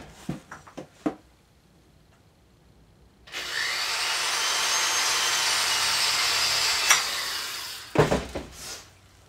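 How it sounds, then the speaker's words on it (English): An electric drill bores a hole in the top of a homemade aluminum can alcohol stove, a steady whirring grind lasting several seconds, close and loud, framed by light clicks and handling knocks before and after. "So I got my drill over here."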